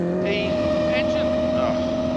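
A rally car engine drones steadily near the microphone with a strong sustained tone, while a voice speaks over it.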